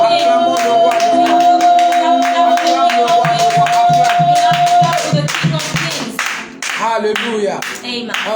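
A church congregation at worship claps in rhythmic, sharp bursts with a sustained tone ringing underneath, joined by voices and cheering toward the end.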